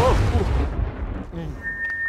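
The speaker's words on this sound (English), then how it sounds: "Now it is going to explode." Deep, rumbling boom from a comedy puppet kitchen sketch, loud at the start and fading into a low decaying roar over two seconds, with a voice speaking over it.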